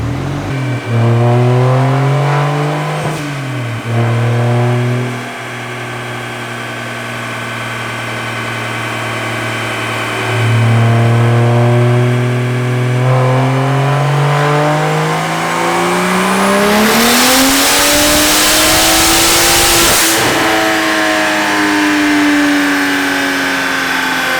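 A BMW 335i with an N54 engine converted to a single turbo roars through a loud dyno pull, its engine note rising steadily through the revs before a whooshing release at the top; no voices.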